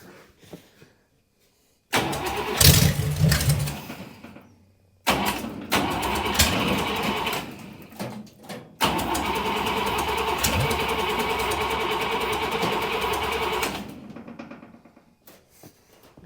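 A Buick Nailhead V8 in a vintage dragster cranks and catches, sputtering through a few loud bursts before settling into a steady, close, rough-running roar that holds for several seconds, then cuts off.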